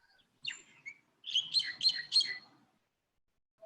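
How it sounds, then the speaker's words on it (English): Several birds chirp in short bright bursts, a quick tweet followed by a cluster of rapid trilling calls, fairly close and clear against otherwise quiet surroundings. "Hello, birds."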